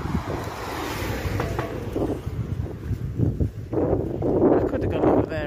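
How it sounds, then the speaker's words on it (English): Strong gusts buffet the microphone on an open country road, a continuous roaring rush that swells and surges louder toward the end, with no clear speech. "It's very, very, very, very, very, very windy"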